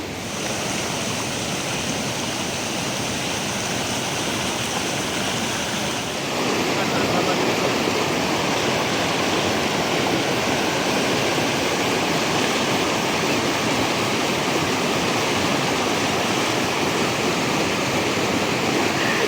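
Continuous loud rushing water, like a fast stream flowing nearby, steady throughout with a broad roar and no pauses.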